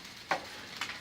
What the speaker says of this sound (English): I'm going to stir this one more time